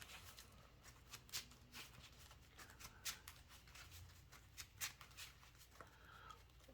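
A Yu-Gi-Oh trading card deck being shuffled by hand, soft papery riffles and slaps in an irregular rhythm, close but quiet, with no talking.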